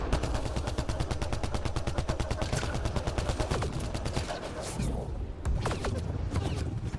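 Rapid, sustained automatic gunfire from a Mass Effect Andromeda multiplayer match, loud and close, with a brief lull before more shots and occasional voices underneath.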